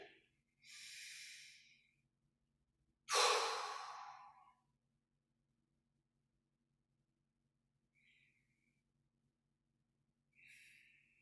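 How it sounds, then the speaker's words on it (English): Slow, deliberate breaths during standing qigong practice, a long inhale and a strong exhale a couple of seconds apart, close and quiet in a still room, then two softer breaths later. "Stand and breathe."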